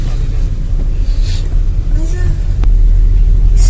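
A car being driven, a loud steady engine rumble and road noise from inside the cabin, with a voice talking over it.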